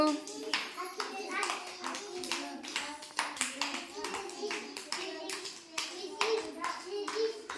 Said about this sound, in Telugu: క్లాప్స్ కొట్టండి నాన్న మీరు.